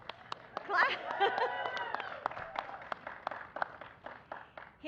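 Scattered applause and clapping from a reception audience at a Hispanic Heritage Month celebration at the White House, uneven claps mixed with voices and cheering that thin out into sparse individual hand claps.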